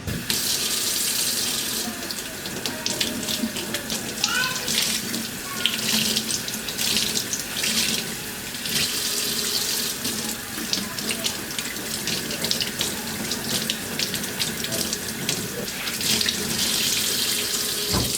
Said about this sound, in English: get both of them wet with water